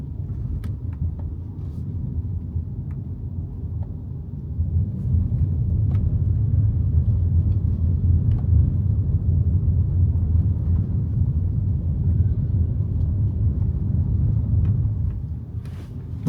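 A Hyundai Ioniq 5N electric car rolling slowly over Dusseldorf city streets and cobblestones, giving a low, quiet tyre rumble that swells after a few seconds and holds steady, with no talk.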